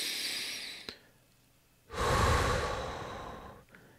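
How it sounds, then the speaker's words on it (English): A person takes a slow, deep breath, a soft airy inhale rising after a faint sniff, then easing off in a quiet exhale, heard close and alone without talk. "take a deep breath."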